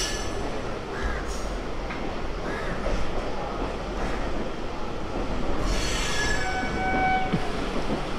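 An ICF 9-coach Naihati-shed EMU local on the Dattapukur service rolls into a platform at Sealdah, with a steady heavy rumble of wheels and car bodies and a few high squeals near the end.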